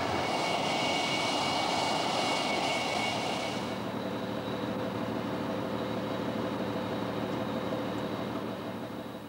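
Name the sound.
Lightning jet aircraft engines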